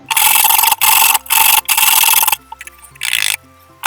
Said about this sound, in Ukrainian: беремо тертку і на великій тертці швиденько натираємо моркву